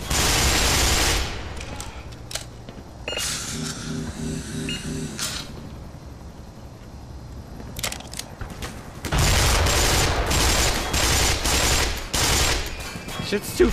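Bombs drop and burst in the Black Mesa video game: heavy booming blasts and rumbling crashes, loud at the start and again through the last few seconds, with quieter mechanical clatter between.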